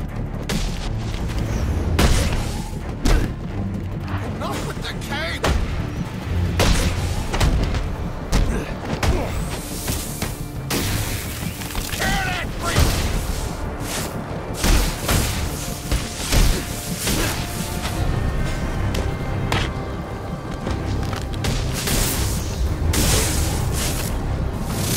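Bursts of gunfire and heavy booms in Batman: Arkham Origins combat, repeated irregularly over a sustained stretch, loud and dense, with voices shouting between shots.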